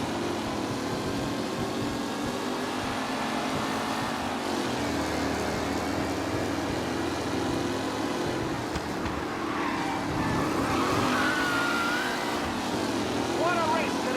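Racing cars roar through a race in Mafia Definitive Edition, a steady dense engine drone with shifting pitch sweeps as cars pass, loud and continuous from start to finish, with talking over it.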